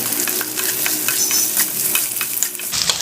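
Spices, chili powder, cumin powder and salt stirred through a frying mixture in oil in a pan, a steady close sizzle broken by repeated scraping strokes of a spoon across the pan.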